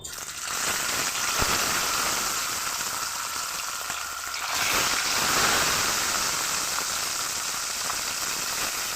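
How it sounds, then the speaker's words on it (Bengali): Turmeric-and-salt-coated parshe fish frying in hot mustard oil, a continuous crackling sizzle close up with a brief surge after a slight dip midway, no voices. "তেলটা গরম হয়ে গেছে নুন হলুদ মাখানো মাছটা"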